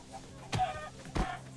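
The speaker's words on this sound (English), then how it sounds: "The chicken!" A chicken in the Minecraft Story Mode video game gives two short clucks about half a second apart, close and fairly clear over a faint background hum.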